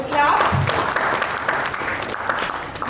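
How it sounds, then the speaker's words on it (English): An audience at an Indo-global business entrepreneurship conclave claps in welcome, a moderate round of applause blended with voices and room chatter over most of its length. "Let's clap."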